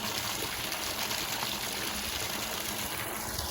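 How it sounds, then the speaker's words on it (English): Water gushes from a single hydrant into a tank, a steady, close rushing and splashing at good pressure. The flow is continuous and even for a few seconds, with no talking. "Pretty good water pressure when you only got one hydrant going."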